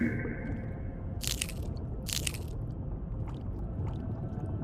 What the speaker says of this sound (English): That crunching sound makes me think that I'm eating the coral.